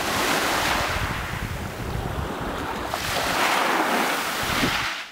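Surf rolls and breaks steadily on the beach at the Himare resort in Albania, a loud, continuous wash of waves with wind buffeting the microphone and no voices.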